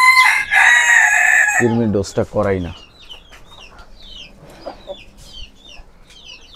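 Backyard chickens, a rooster crowing loudly up close, then soft scattered clucks and chirps, with someone speaking in between.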